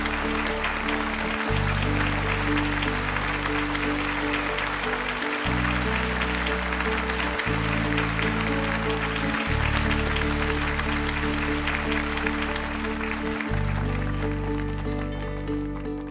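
An audience applauds the gold award winning sculptor at a ceremony, steady dense clapping that lasts throughout over a sustained musical backing with low, shifting bass notes.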